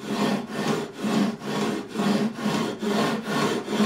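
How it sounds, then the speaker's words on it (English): Levelling beam with 240-grit abrasive sanding across the frets of a Crafter GAE45/N acoustic guitar, following the radius: steady back-and-forth rasping strokes, about eight even passes, close and loud with no talk. "we're going to level the frets, all of them, in one go, using levelling beam"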